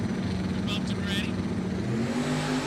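A hoodless Lexus and Camaro drag racing at a Bradenton drag strip event, engines roaring hard and steadily for the whole stretch while a commentator talks over the noise.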